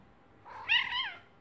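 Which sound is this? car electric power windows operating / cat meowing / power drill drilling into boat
cat meowing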